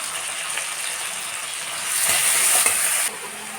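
Cumin, green and dried chillies with onion, garlic and ginger paste frying in a pan, a steady close sizzle that swells louder midway with a few scraping stirs, no voices.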